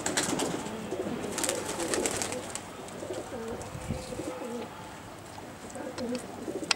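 Pigeons cooing in a loft housing about 32 birds of fancy breeds, including golden and Saharanpuri kalsara types, with soft repeated low coos over steady rustling and chatter from the flock, close to the listener.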